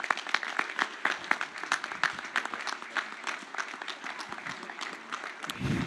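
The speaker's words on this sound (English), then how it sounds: "How about a round of applause?" Audience applause at a firefighter cancer initiative leadership presentation, dense rhythmic clapping from a crowd filling several seconds, fairly loud and sustained with no talking over it.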